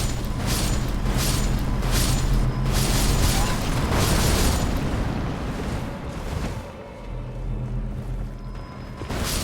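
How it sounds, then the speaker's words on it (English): Chain explosions in Elden Ring: a rapid series of booming blasts bursts out in succession, then fades to a quieter rumble near the end, with a voice speaking over the start. "chain explosions."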